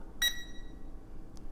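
A SNAPTAIN SP650 drone remote controller gives a single short, high electronic beep while pairing, set against a quiet low background hum and a faint second blip near the end.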